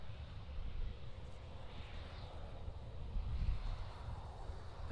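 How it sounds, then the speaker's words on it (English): A Boeing 737 taxis toward the runway at Amsterdam airport, a low, steady jet rumble heard from a distance under gusty wind noise, swelling slightly near the end. "that 737 looks like it's going to take a different entry point onto the runway"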